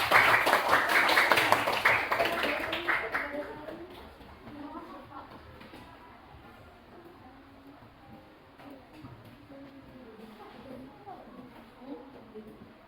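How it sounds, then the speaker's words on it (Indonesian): Classroom of students clapping for everyone together at a teacher's prompt, a dense burst for about three seconds that then fades into quieter room noise and faint voices. "Oke, tepuk tangan buat semuanya."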